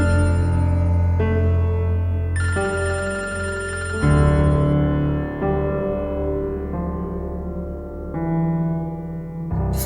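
Telephone ringing on and on unanswered, a loud repeating ring that fills the whole stretch with no voices over it.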